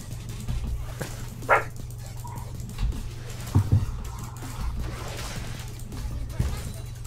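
A pet dog gives a few short barks and yips, loud and close, during a live League of Legends stream, over steady low hum and faint background noise.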